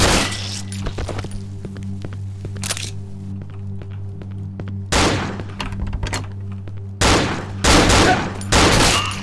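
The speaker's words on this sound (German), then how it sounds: "Gelegentlich wird halt immer ein bisschen geschossen, so zur Entspannung." Gunfire in the horror game Cry of Fear: a few sharp, loud shots spaced apart, some in quick pairs, over a steady low hum and scattered thuds.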